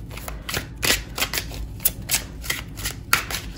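Tarot cards are shuffled for a pick-a-card reading: a quick, uneven series of papery riffles and snaps, close and fairly loud, with no voices.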